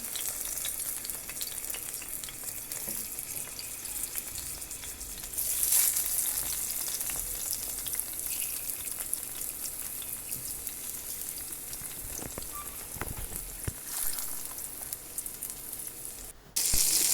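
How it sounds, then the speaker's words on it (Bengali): Fish frying in a pan makes a steady close-up sizzle with stirring scrapes and occasional spitting crackles, growing brighter for a moment near the middle and continuing without speech. "এখন মাছ ভাজবো, মাছ দিয়ে দিলাম।"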